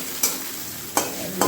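Scrambled eggs with onion fry in a pan, a steady soft sizzle broken by three short scraping stirs spaced about a second apart, close and alone with no talk.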